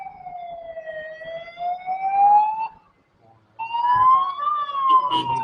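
A wailing ambulance siren rises and falls, loud and close, cutting out briefly before sounding again, with traffic noise underneath.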